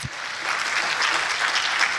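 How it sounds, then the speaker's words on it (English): A crowd applauds Moot Court students at a law school alumni homecoming and anniversary event, a dense, steady wash of clapping that holds evenly throughout. "I think we need a round of applause for our students who have been representing us in Moot Court"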